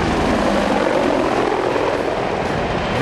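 Apache Longbow attack helicopters fly in formation over the sea, making a loud, continuous rotor and engine roar with no break.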